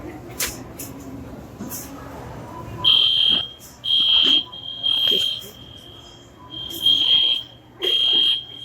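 A Walmart store's fire alarm goes off in shrill, high electronic beeping bursts about a second long, repeating with short gaps, loud over a murmur of indoor store noise and faint voices.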